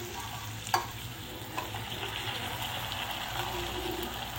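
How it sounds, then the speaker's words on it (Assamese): Spiced masala fries in oil in a kadai, a steady close sizzle with a few clinks of stirring and scraping over a low background hum, and no one speaking. "এইখিনি মই ভাজা হৈয়ে গৈছে, তেল ওলাইছে দেখিছে মছলাৰ পৰা।"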